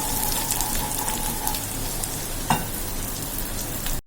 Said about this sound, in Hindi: ये प्याज जैसे ही लाल हो जाएंगे, इसके अंदर मैं ये मसाला डाल के भूनूंगी